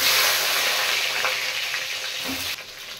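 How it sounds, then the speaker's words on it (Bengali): Eggplant slices frying in hot oil in a home kitchen, a dense close sizzle that stays loud and steady, then drops a little in the final moments. "বেগুন ভেজে নেব।"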